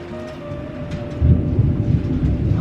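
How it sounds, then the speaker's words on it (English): Deep rumbling thunder during a nasty winter hailstorm, a low continuous roar that swells louder about halfway through, with steady storm noise and wind beneath and no one talking. "There's been a bunch of thunder."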